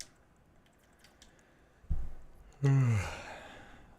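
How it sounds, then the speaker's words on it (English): A person yawns during a weekend league football game stream, a long breathy exhale with a voiced, falling moan, close and alone after a brief soft breath. "Said breath of fresh air and I had to yawn, I apologize"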